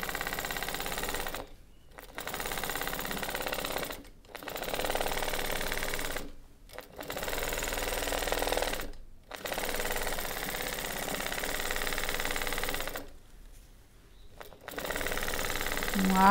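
A sewing machine quilts a patchwork block in close, loud, rapid stitching runs of a few seconds each, broken by brief pauses as the fabric is turned.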